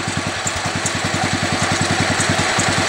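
A Wheel Horse C-81 garden tractor engine with a freshly rebuilt carburetor, new fuel pump, adjusted points and new spark plug idles steadily, a close, even, rhythmic chugging that holds throughout with no talk.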